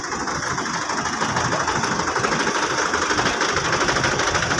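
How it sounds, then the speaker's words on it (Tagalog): Many motorcycle engines running together at Batangas port, a dense, steady mechanical drone with a fast pulsing rattle, loud and close throughout with no pauses. "Mga motor ang dami oh."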